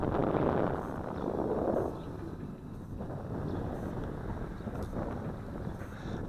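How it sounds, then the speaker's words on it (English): Steady wind buffeting a small FQ777 951-C camera drone's microphone outdoors, a continuous loud rumbling roar that swells and eases without pause, with no voices. "it's fighting that breeze that's picking up"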